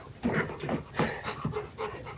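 Dogs pant heavily and rhythmically up close indoors, a steady run of quick breathy huffs with no talking over them.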